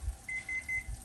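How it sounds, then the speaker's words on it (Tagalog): A kitchen timer sounds three quick, thin electronic beeps in an even rhythm, fairly faint against a quiet room. "Nag-end na yung timer, sinet natin ng 20 minutes sa 400 degrees"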